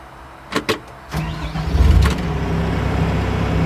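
A Mecalac AX machine's engine is cranked and fires up, with a couple of sharp clicks, then a low rumble that builds and settles into a steady idle, close and moderately loud.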